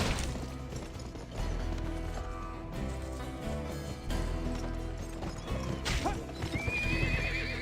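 A horse in the Western video game Gun clip-clops at a gallop in a steady rhythm of hoofbeats, loud and close, with a sharp whinny late in the clip over game ambience.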